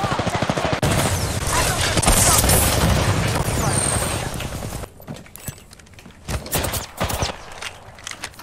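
Bursts of rapid automatic gunfire from the Apex Legends battle royale shooter, loud and dense for several seconds, then sparser sharp shots and clatter over quieter game ambience.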